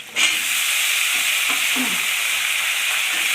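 Onions frying in a pan for a Bengali fish and potato curry give a steady, close, loud sizzle throughout, with a few soft stirring scrapes near the middle.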